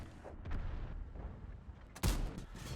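A tank cannon shot in a video game battle, a single loud boom near the end after quieter rumbling background and a distant thud, no speech.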